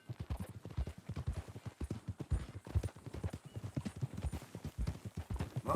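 Horse hooves clip-clop steadily in the Red Dead Redemption video game, a rapid rhythmic run of close, fairly loud hoofbeats with an occasional faint whinny.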